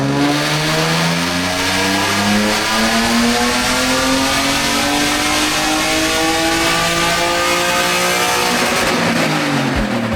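BMW E36 naturally aspirated engine revving hard on a dyno with a larger exhaust, a loud sustained rising drone with harmonics climbing steadily through the whole run, no speech.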